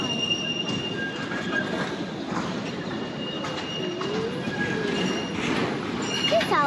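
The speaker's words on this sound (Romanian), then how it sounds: "Ce se aude? Tramvaiul." Tram passing along a street in Zagreb, Croatia, a continuous rolling rumble with faint metallic wheel squeals, fairly close, with light street ambience and a bird or two.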